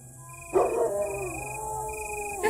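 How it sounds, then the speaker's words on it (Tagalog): Dogs howling with long, wavering tones over a steady electronic beeping hum, close and sustained. "May umaalulong na mga aso."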